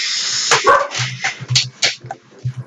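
Greater Dog barking in the video game Undertale: a run of sharp, close, loud barks and yips in quick uneven bursts over a noisy background, with no speech.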